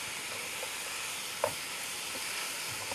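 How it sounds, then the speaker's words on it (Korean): Marinated meat and shredded cabbage stir-fry in a hot pan, giving a steady close sizzle with a brief clink of a utensil midway. "많이 볶아요."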